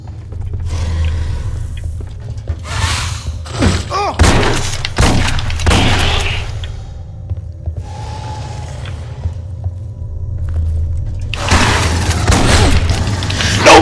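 Pump shotgun blasts and grenade explosions in the video game Aliens Colonial Marines, a string of loud booming shots and bursts spread through the clip with a steady low rumble underneath.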